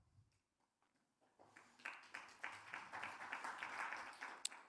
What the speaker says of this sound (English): How's that for a spattering of applause?